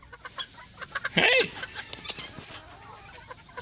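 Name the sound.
small BB red rooster clucking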